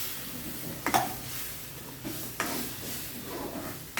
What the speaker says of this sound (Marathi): तर त्याच्यामध्ये आपण हे आपलं डाळीचं पीठ जे ओलं मिक्स करून घेतलं ते टाकलं.